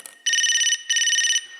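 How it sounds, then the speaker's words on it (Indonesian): A mobile phone rings for an incoming call with a bright electronic ringtone in two long bursts separated by a short gap, loud and close, with no voices. "bentar nih gue dapet telepon tapi gue gak tahu ini nomor siapa"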